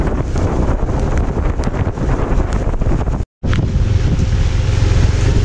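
Typhoon Ulysses rain drenches a flooded stretch of MacArthur Highway, a continuous, loud roar of falling water mixed with wind gusts, broken by one brief silent gap partway through.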